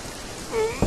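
Steady rain pours down at night in a dramatized ghost story set in Sabak Bernam, a soft continuous hiss that swells slightly near the end, with no voices over it.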